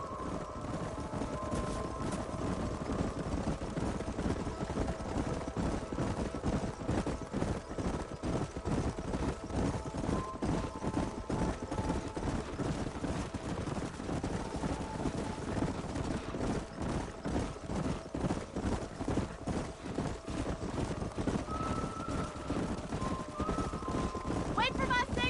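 Horses galloping in the Western video game Red Dead Redemption, a fast, continuous drumming of hooves through the whole stretch with steady faint background tones, no voices heard over it.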